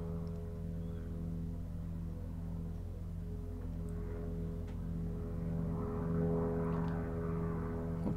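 A propeller airplane passing overhead, a steady droning engine hum with a sustained tonal whine that swells slightly louder toward the end, heard alone without talk.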